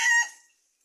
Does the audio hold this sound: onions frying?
no